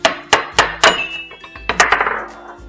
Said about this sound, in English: Now, let's hammer the yellow ball over here.